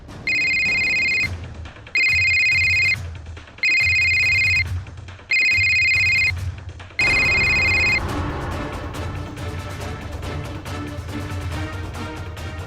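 A telephone rings in five loud, evenly spaced bursts, each about a second long with a short gap between, set in an indoor home scene. A busier, noisier stretch follows the last ring.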